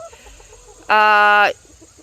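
A loud, close chicken call, one sustained squawking cluck lasting about half a second, rises out of a quiet farmyard background and then stops.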